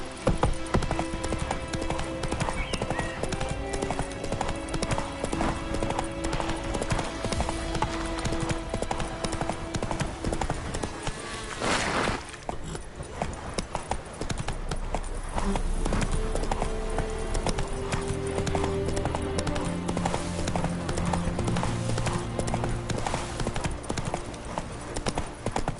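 A horse galloping in The Witcher 3: Wild Hunt on PS5, its hoofbeats a continuous, rapid clip-clop that stays prominent for the whole stretch, with game ambience and a brief swell partway through.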